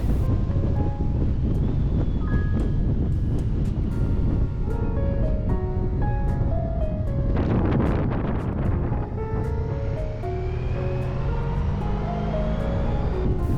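Strong highland wind roars steadily over a motorcycle ride in Iceland, a loud, continuous buffeting rush with engine hum underneath and no pauses, near and dominant throughout.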